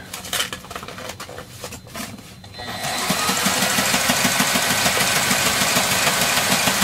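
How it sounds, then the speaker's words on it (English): Sailrite sewing machine stitching roll furling tape aboard a steel boat, a steady fast mechanical whirring hum that starts after a few seconds of quieter clatter and runs continuously, close and fairly loud. "we keep our Sailrite sewing machine. She's about halfway through sewing the roll furling tape"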